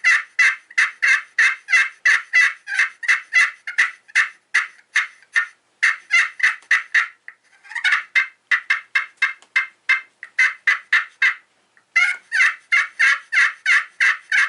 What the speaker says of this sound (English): This is a very, very, very pretty Slate pot turkey call.